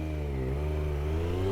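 A super sport motorcycle engine revs under throttle toward high RPM, a loud, close, continuous mechanical roar whose pitch slowly climbs.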